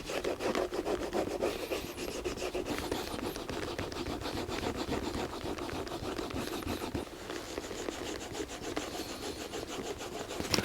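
Edge wax is rubbed briskly along the welt of a Tricker's shoe, a dense, close scraping friction that runs continuously without pause and with no voices.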